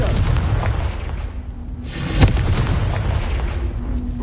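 A Confringo explosion spell cast in the Hogwarts Legacy video game, heard as a loud booming burst with a sharp crack near the middle over dense, rumbling game sounds.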